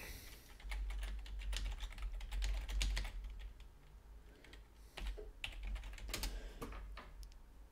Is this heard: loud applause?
no